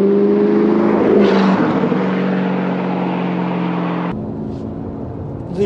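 An Audi R8 V8 engine pulls hard and loud up close, its strong steady tone stepping through several quick gear changes as it accelerates, then cutting to a quieter, lower note near the end, with no talking.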